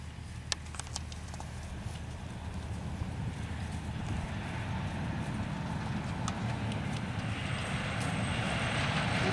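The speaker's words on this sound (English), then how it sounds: "We'll just pick up the speed a little bit and we'll move her to a trot." A horse trots in a reining arena with a steady, fairly distant rhythmic patter of hooves over a constant broadband background hum.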